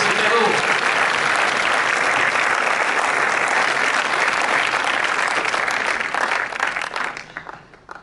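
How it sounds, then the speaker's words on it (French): A theatre audience applauds street singers with steady, dense clapping that fills the hall, fading out over the final second. "On peut les applaudir, bravo."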